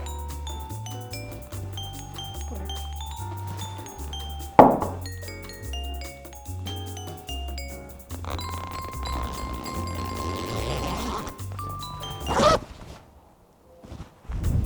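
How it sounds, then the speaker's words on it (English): A stuck zip on a leopard print raincoat being worked back and forth, giving scratchy, uneven rasps with a couple of sharper clinks, heard close over a steady tonal background. "The zip is stuck."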